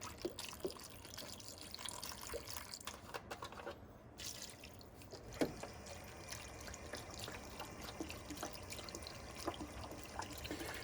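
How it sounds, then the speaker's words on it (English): Two litres of vegetable stock poured into a soup pot, a faint continuous liquid trickle and splashing with small drips and clinks, steady for about ten seconds. "we add 2 litres of a good quality vegetable stock"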